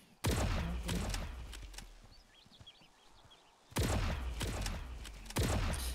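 Bursts of Stingray sniper rifle fire in the shooter game Guns of Boom: a loud volley at the start, a quieter stretch with faint distant shots, then another loud burst, with no talk.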